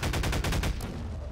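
Rapid gunfire in Garry's Mod rings out as a quick burst of about eight sharp, loud shots in even rhythm, then fades into a short echoing tail, with no voices.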